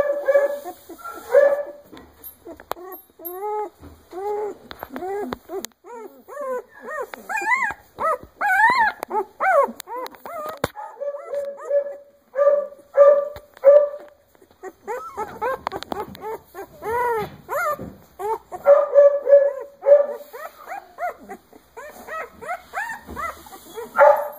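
Three-week-old puppies whine and whimper almost continuously at close range, with high rising cries, yips and occasional small growls overlapping in irregular bursts.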